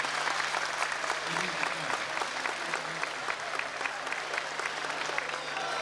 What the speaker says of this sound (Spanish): Un aplauso para el señor Curso que está con nosotros.